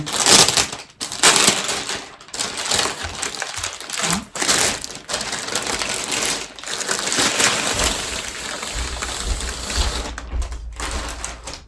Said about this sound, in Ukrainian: Ось так вона запакована. І давайте разом її відкриємо.